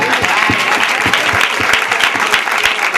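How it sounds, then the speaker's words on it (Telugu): An audience at a career guidance program breaks into close, steady applause that stays fairly loud and dense for about three seconds, with crisp overlapping hand claps. "వెరీ గుడ్ రా, క్లాప్స్."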